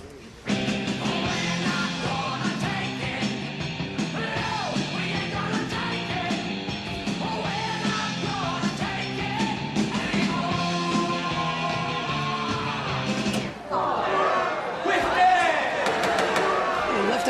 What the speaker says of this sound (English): Now, this is a very large crowd today, but we are not going to tolerate any applause, any demonstrations of any kind.